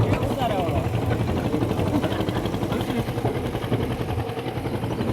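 A tractor engine runs steadily in the open near a river during the rainy season, a continuous loud low drone that persists throughout, with people talking over it.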